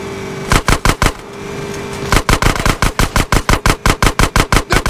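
Rapid automatic gunfire blasts open a gate in Grand Theft Auto San Andreas, a short volley followed after a brief pause by a longer, steady rattling burst of loud, evenly spaced shots.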